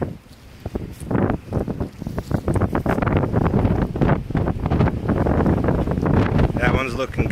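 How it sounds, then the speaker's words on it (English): Strong wind buffets the microphone in an outdoor bee yard in winter, loud gusting rumbles rising and falling throughout as someone speaks intermittently over it. "Boy, it's windy out here."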